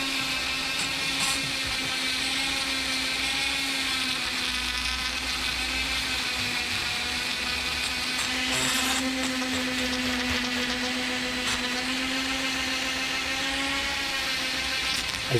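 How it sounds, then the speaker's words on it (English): A Dremel rotary tool with a small attachment whines steadily at a high, buzzing pitch while cleaning a Yamaha XT250 motorcycle carburetor, running close and continuous throughout. "I had to change the attachment on the Dremel to something a little smaller"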